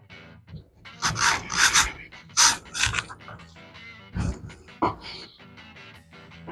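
A knife trimming the thin end off a raw brisket, close rasping and rubbing strokes of the blade through meat and fat in uneven bursts, with occasional knocks on the board.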